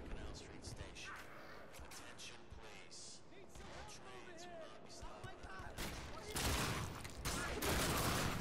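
Gunfire in the video game The Darkness 2, a dense chaotic mix of repeated shots, impacts and game effects that builds louder toward the end, with a voice talking over parts of it.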